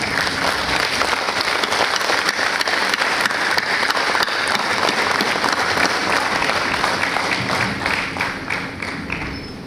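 An audience at a university ceremony stands and applauds to honor judges: loud, dense, sustained clapping from a large crowd fills the whole stretch without a break.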